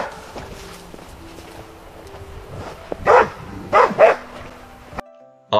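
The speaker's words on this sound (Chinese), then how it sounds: "大家能听到狗的声音" A few short dog barks from a small dog playing with a cat in a snowy scene, in an AI-generated soundtrack. Three quick, fairly loud yaps come near the end over a soft background of light music and faint rustling.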